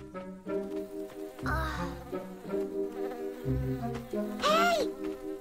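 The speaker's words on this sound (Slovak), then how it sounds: "Vesper je osa" Buzzing of an animated cartoon wasp from the Maya the Bee series, a close, loud droning whine that rises and falls in two bursts over a steady musical background, with no talking.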